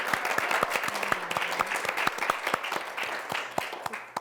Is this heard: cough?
no